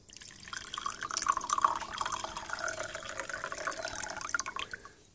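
Water pours unevenly from a glazed ceramic vessel with blistered clear glaze, splashing and trickling steadily for several seconds at close range, with no talk over it.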